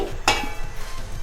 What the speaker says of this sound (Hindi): मसाला भुनना शुरू हो गया है